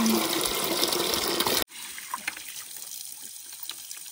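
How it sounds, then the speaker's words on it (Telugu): Drinking water pours steadily from a pipe in a forest tribal hamlet near Lambasingi, a continuous splashing gush that drops abruptly partway through to a lighter, quieter trickle. "ఇంకా అలా పోతూ ఉంటాయి కదమ్మా నీళ్ళు."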